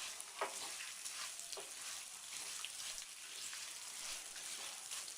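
Turmeric stirred into a hot sizzling tempering for tamarind rice, giving a steady bright sizzle with faint scraping stirs, quiet and continuous with no talk.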